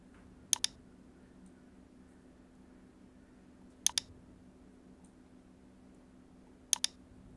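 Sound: computer mouse clicking while dragging menu categories

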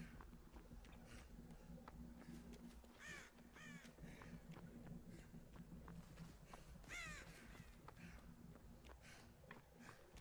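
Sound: birds cawing in a video game

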